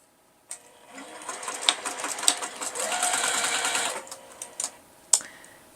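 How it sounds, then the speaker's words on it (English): A sewing machine stitches quilt pieces together with a 1/4 inch seam, starting with a click, then a steady close whirring run for a few seconds before stopping, followed by a few sharp clicks and thumps of handling. "So I'm going to go ahead and sew this together."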